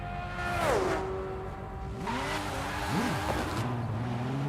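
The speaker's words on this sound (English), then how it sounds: "Oh man, the turbo sounds so good." Turbocharged car engine in Forza Horizon 5, revving with rising and falling pitch sweeps and gear changes, loud and steady throughout with no talking.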